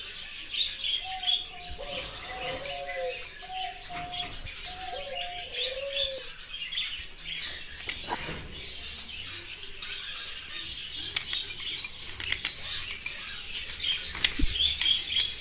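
Pairs of Silkie and Chuithal birds give repeated cooing calls in short phrases over the first several seconds, with softer chirps and scattered rustling throughout, at close range in a noisy enclosure.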